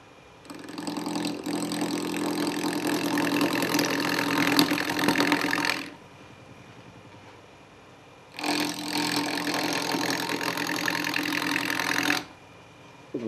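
A wood lathe runs at about 500 RPM while a Rockler carbide mini turning tool cuts poplar, giving two sustained bursts of loud, close cutting and whirring separated by a brief quieter pause.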